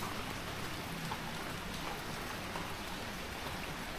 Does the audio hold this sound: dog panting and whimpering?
no